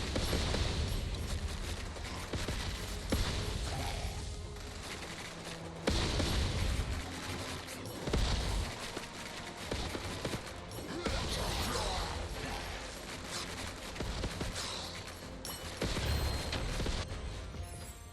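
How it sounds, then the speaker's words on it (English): Rocket explosions and fire effects in a video game, dense and continuous layered blasts, crashes and crackling bursts filling the whole stretch at steady loudness, with no speech. "just explosions and fire."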